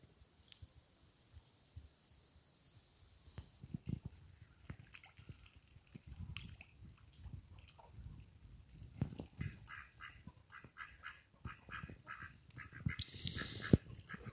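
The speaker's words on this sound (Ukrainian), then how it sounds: "Качечки собі плавають, купаються." Ducks quack and splash around water in a poultry aviary with chickens and broilers nearby, faint scattered calls and dabbling noises with a brief high squawk near the end.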